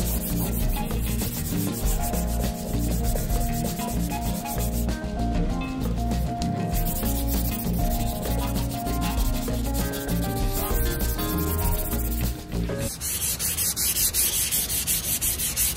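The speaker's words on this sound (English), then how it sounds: "sanding the inside surface here" An orbital or hand sander works steadily across the inside surface of a wooden side table, a continuous dense rubbing drone that stops abruptly near the end, leaving a quieter room tone.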